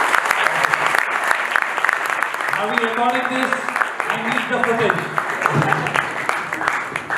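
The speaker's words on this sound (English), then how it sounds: "let's just have a huge round of applause for Twitch for just holding the whole day together" Applause from a conference audience after a speaker's thanks, a dense steady clatter of clapping lasting the whole stretch while someone talks near the microphone over it.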